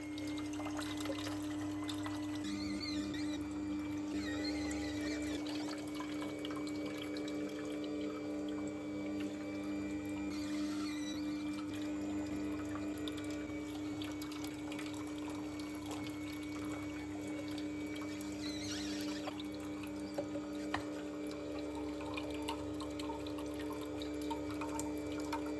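Fresh juice runs from the tap of a Ninja NeverClog cold press juicer into a jug, a steady continuous pouring trickle with a constant motor hum underneath, no voices.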